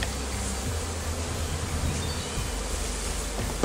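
Honey bees buzzing in an opened beehive at the honey super, a dense, steady droning hum of many insects close by, with no voices.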